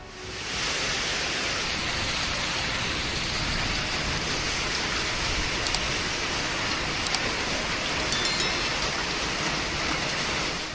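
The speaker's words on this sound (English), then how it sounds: "Heavy rain and giant hailstorms in southern Ontario turned the sky into a chaotic" Heavy rain with hail in southern Ontario, a dense, steady hiss of downpour with a few sharp taps rising out of it, continuous and alone.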